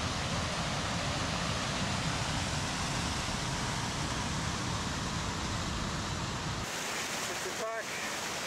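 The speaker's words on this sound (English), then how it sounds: "Little waterfall." A small waterfall on the High Sierra Trail in Sequoia National Park makes a steady rush of falling water, a constant broadband roar that cuts off abruptly near the end, followed by brief quieter sounds.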